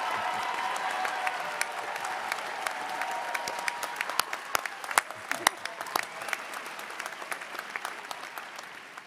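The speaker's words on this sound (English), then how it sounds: "So would you please applaud for these two?" Steady applause from an audience at a medical school white coat ceremony, many hands clapping together with scattered sharper claps standing out, filling the room for the whole stretch.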